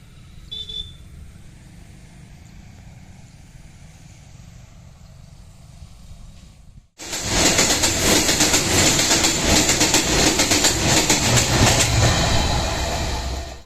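The Hool Express train passing a rail gate among green paddy fields, a soft outdoor hush that suddenly gives way to a loud, steady close roar and rumble of passing carriages with faint rhythmic clatter, and no talking.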